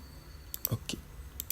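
A computer mouse clicks while a user works in SolidWorks CAD software, giving a handful of quiet, crisp clicks in an irregular scatter over a faint background.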